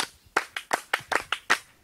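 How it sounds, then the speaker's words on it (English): Seven sharp hand claps in a quick, slightly uneven run, close and fairly loud, with nothing else around them. "Clap for her."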